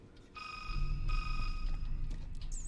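A strange telephone in the Resident Evil 6 video game rings with a steady electronic tone that breaks off once and resumes, over a low rumbling background.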